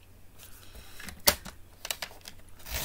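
A paper trimmer blade slices through sparkly cardstock for a Stampin' Up! Father's Day card, giving a sharp close cut amid quieter handling rustles on the desk.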